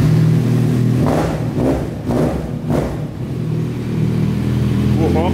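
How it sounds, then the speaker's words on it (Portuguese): A Kawasaki Z1000 motorcycle with an aftermarket exhaust is started and revved, several loud pulsing blips over a deep steady idle, close by. "Vou dar uma partidinha aqui pra vocês verem o ronco."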